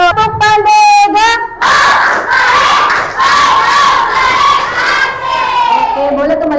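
A fifth-grade class performs the tepuk pandega clapping chant together: loud, energetic group shouting with a few sharp claps at the start, sustained by many young voices throughout.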